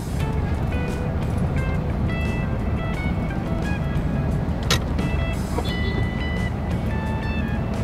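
Road traffic rolls past near a rail depot under construction, steady engine rumble and tire noise from cars crawling in congestion, with faint clicks and a sharp brief tap midway, no clear talk.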